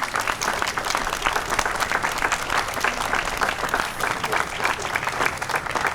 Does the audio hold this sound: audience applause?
yes